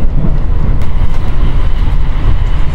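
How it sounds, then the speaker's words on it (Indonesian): An Argo Wilis passenger train from Surabaya Gubeng to Bandung rushes past at close range, a loud steady rumble of wheels and carriages filling the whole moment with no talk. "kita berpapasan dengan kereta api Argowish dari Surabaya Gubeng tujuan Bandung"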